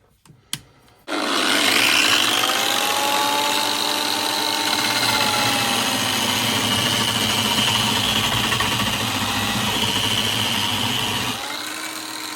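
A Parkside floor and wall sander switches on after a few clicks and runs loud and steady for about ten seconds, a harsh continuous whirring roar up close before easing off.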